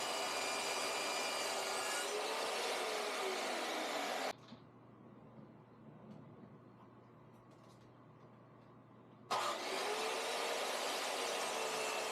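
A power saw cuts 45-degree angles in rough-cut cherry wood pieces, giving two loud, steady whining cuts close by, separated by a quieter stretch of low hum.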